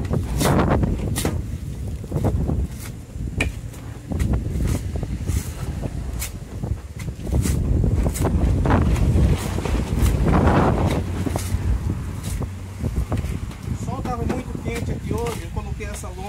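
Strong wind on a farm buffets the microphone in heavy, rumbling gusts, with faint knocks and creaks in the background.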